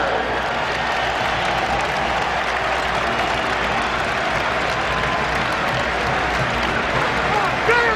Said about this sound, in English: A standing O from the crowd in Pittsburgh.